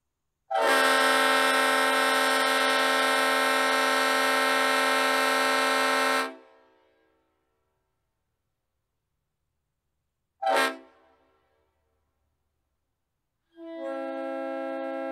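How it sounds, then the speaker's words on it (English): Leslie S5T RF air horns on GE U50 locomotives blare: a long, loud, multi-chime blast of about six seconds, a short sharp toot, then another sustained blast beginning, with silence between. "The U50 and U50C were equipped with Leslie S5T RF air horns. Here are a few samples."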